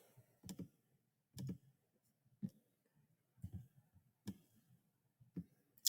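Computer mouse clicking, several sharp single clicks spaced about a second apart, close and quiet in an otherwise silent room.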